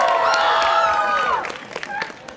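Crowd at a Girls' Generation fan meeting in Los Angeles cheering for a contestant in a Gee dance competition, loud screams and shrill high-pitched cheers sustained for over a second, then fading into scattered shouts and claps.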